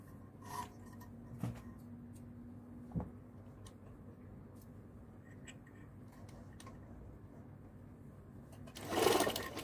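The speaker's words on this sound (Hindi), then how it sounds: "फिर प्रेशर फुट को नीचे रखेंगे, फिर स्टिच करेंगे।" A sewing machine stitches through fabric with a low, steady mechanical whir, a few faint clicks along the way, and a louder burst of running near the end.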